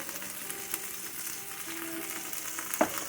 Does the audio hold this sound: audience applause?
no